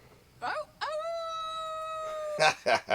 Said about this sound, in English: here come those damn wolves or coyotes